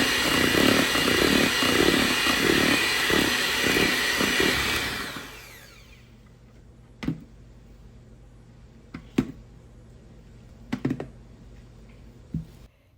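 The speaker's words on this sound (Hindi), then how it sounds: "शुगर और अंडों को अच्छे से बीट करेंगे ताकि अंडे अच्छे से फ्लफी हो जाएं" An electric beater whisks sugar and eggs into cake batter, a loud, steady buzzing whir that runs for about five seconds before switching off, leaving a quiet room with a few scattered clicks and knocks.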